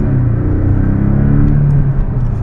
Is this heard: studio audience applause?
no